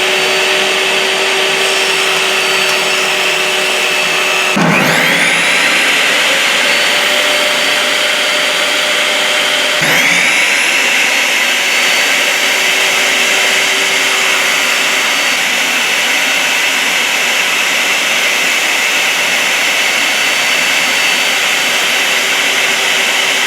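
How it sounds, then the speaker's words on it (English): A power tool cutting up wooden boards for a USB cover project, a loud continuous whining roar running throughout, with two sharp cut-in bursts as the blade bites, heard close and alone. "But first of all, I need to cut these boards up."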